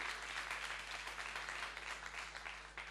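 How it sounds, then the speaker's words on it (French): Audience applause at a karaoke contest launch event, a continuous faint wash of clapping with a steady low hum underneath. "on peut déjà applaudir"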